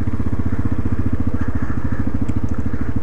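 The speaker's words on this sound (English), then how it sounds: "Oh, there's a four-wheeler there right now." Several four-wheeler ATV engines run near a lake, giving a loud, steady, close putter with rapid regular firing pulses and faint scattered clicks on top.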